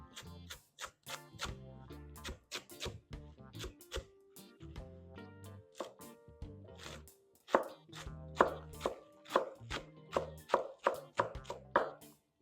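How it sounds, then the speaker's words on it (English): A knife chops callaloo stalks and leaves on a cutting board, a series of crisp close taps, slow at first then quicker and louder in steady rhythm, with no voices over it. "So see, cutting it just like that."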